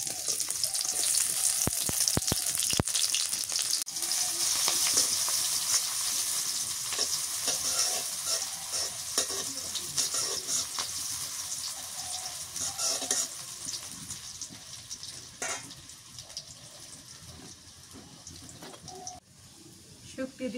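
Chopped onion sizzles in hot oil in a pan while a utensil stirs and scrapes through it, a steady close frying hiss with intermittent clinks and knocks that slowly quiets.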